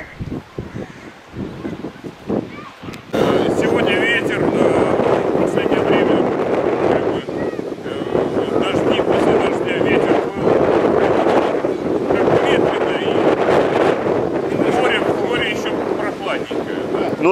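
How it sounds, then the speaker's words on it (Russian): Loud, steady wind buffeting the microphone on a beach in Sevastopol with a rough low rumble, starting after a quieter opening, with voices partly audible underneath. "Сегодня ветер"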